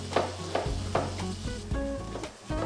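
One yellow onion sizzles as it hits melted butter in a pan, the base for an espagnole sauce. Steady frying hiss runs throughout, with a few soft clacks and stirring knocks.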